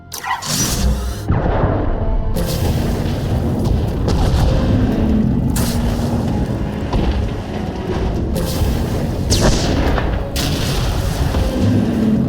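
A failsafe firing in Star Wars: The Old Republic sets off a loud cinematic explosion: an opening blast, then a sustained rumbling roar with further booming bursts and mechanical debris over roughly twelve seconds.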